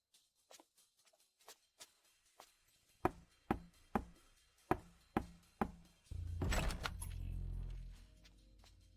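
Knuckles rapping on a door, a series of sharp knocks: faint quick taps first, then louder, spaced single knocks, followed by a muffled creak and rumble as the door seems to open, with no talking.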